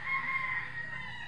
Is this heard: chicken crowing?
yes